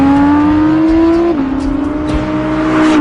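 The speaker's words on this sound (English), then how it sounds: "when you're driving the R8, you just want to be on the throttle because this engine is so damn magnificent." An Audi R8 V10 Plus accelerates hard on a race track, its engine note rising loud and close. The pitch drops briefly at an upshift, then the engine climbs again under full throttle.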